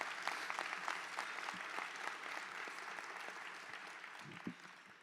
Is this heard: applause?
yes